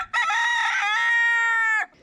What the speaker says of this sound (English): he was our male rooster, king of the coop.